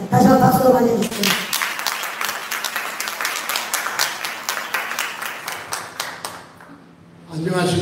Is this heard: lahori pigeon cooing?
no